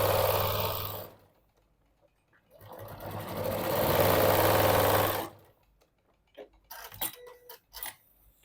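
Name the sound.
sewing machine top stitching a quilted pouch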